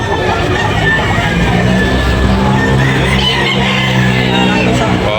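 Roosters and hens at a poultry market in Tabunok, Talisay, Cebu, crowing and clucking amid dense crowd babble and traffic noise, with voices talking close by throughout.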